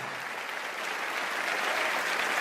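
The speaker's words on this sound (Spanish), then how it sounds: "Ese aplauso tiene que ser para estos campeones" A congregation at a church sermon applauds, a broad sustained wash of many hands clapping at moderate volume, swelling slightly toward the end with no voices over it.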